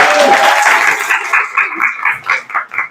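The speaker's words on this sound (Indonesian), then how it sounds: "Kasih tepuk tangan." Classroom applause for a teacher during a school supervision session, a loud close burst of many hands that quickly thins into a few slower, rhythmic claps.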